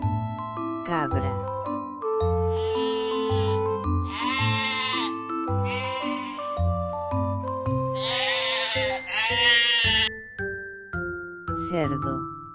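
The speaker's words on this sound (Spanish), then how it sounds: "Cabra." A goat bleats in a series of wavering, nasal calls, close and fairly loud, over a constant bright jingling musical backing with chimes.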